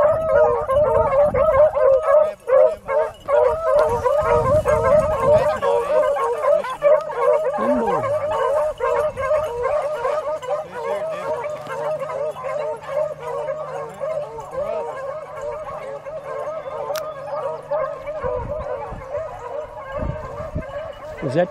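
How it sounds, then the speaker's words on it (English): Beagles on a rabbit hunt bay and howl continuously in a loud, overlapping chorus of yips and barks outdoors, with people talking at times. "There's two nice dogs Jed's got."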